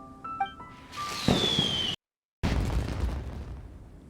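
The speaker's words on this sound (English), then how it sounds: "Did you hear that explosion? Maybe it was fireworks." Fireworks in Genshin Impact: a rising whistling whoosh, a moment of total silence, then a loud crackling burst that rumbles on to the end.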